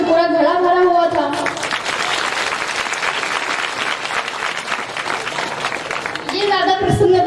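An audience applauds during a Hindi religious sermon, a dense burst of many hands clapping loudly and steadily for several seconds, with the preacher's voice heard just before it starts and again as it fades.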